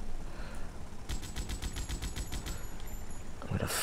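A quick string of about eight sharp shotgun blasts in the video game Shine o' Vice, evenly spaced over a dull background rumble, followed by one more heavy blast at the end.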